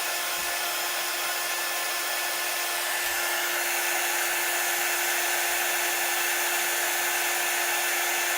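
A hair dryer blows steadily on chalk paste, a loud continuous whooshing hum with a constant motor tone that runs unbroken throughout, close by, with no talking.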